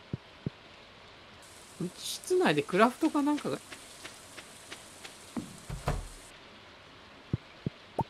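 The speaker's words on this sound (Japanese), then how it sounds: "え雨降ってるめっちゃ、 本当だ雨降ってたら" Rain falls in Stardew Valley as a faint, steady high hiss that starts after a second and stops near the end, under people chatting.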